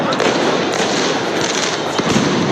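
During clashes between police and protesters in Belgrade, fireworks and flares crackle and pop in a dense, unbroken barrage, loud and close throughout.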